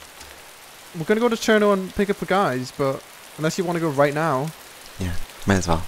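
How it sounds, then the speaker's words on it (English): Steady rain in the ARMA 2 DayZ mod hisses softly in the background beneath a man's conversational speech. "This fucking server's awful because it's constantly raining."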